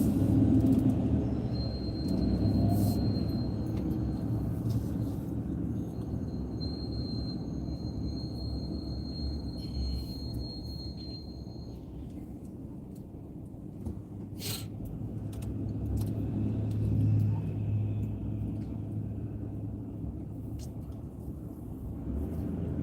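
Freeway traffic rushes past a moving car in the early morning, a continuous low roar of tires and engines with swells as vehicles pass, and someone talks over it.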